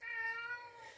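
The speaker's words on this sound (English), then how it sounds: "there's my kitty cat, who's jumped up on one of my altars, who wants my attention" A house cat meows once, a clear drawn-out tonal cry up close that tapers off over about a second, heard alone in a quiet room.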